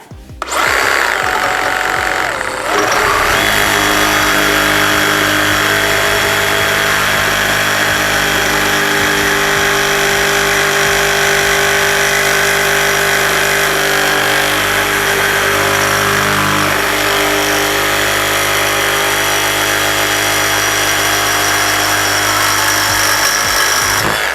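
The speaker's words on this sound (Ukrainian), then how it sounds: "Ну і почнемо з пилки SR. Це в нас кутик товщиною в 5 мм стінка." A DeWALT DCS382N cordless reciprocating saw cuts through 5 mm thick steel angle, a loud, continuous buzzing rasp that holds steady from start to finish with no voices.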